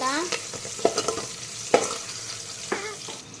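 Mustard seeds, cumin and turmeric stirred in a hot pan: close scraping strokes of a spoon against metal, a few sharp clinks, over a light, steady sizzle.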